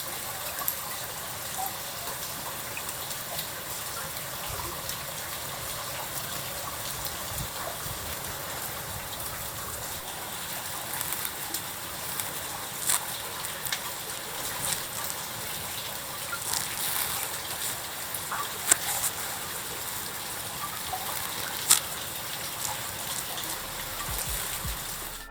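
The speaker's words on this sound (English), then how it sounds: "all the water dripping, leading to the creek below" Meltwater dripping from icicles and running into the creek at Mossy Cave in Bryce Canyon, a steady rushing wash of flowing water with scattered small drips, even and continuous throughout.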